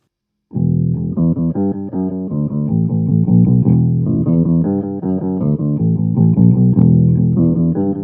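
A clean guitar plays a steady bass-like line of plucked notes through a DigiTech Drop pedal, pitched down an octave so it sounds deep and thick, with nothing else playing.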